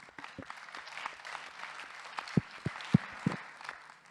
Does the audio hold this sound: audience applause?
yes